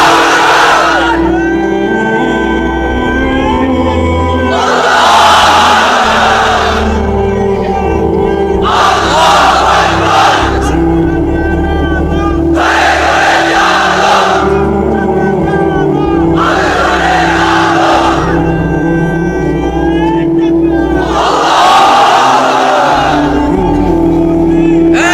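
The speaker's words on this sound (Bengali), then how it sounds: "এবার অবিবাহিতরা দাও লিল্লাহি তাকবীর।" A large crowd of unmarried men at an Islamic sermon gathering shouts the takbir chant in about five loud, massed bursts, spaced a few seconds apart, over a sustained crowd roar.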